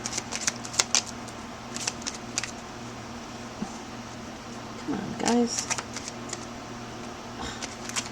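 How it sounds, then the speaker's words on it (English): Someone shuffles a deck of cards in short riffling bursts over a steady low hum, while a person speaks briefly in between. "They don't want to shuffle."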